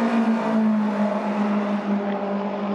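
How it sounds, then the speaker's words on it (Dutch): A race car passes the grandstand at the TT Circuit Assen, its engine a loud, steady roar held close by for a few seconds before it starts to fade. "En zoals je het hoort, komt er een auto voorbij."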